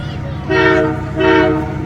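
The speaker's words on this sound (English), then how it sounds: "CP's running the holiday train through just up along the Mississippi River here." CP holiday train sounding its horn beside the Mississippi River, two loud sustained chord blasts over the low rumble of the rolling train.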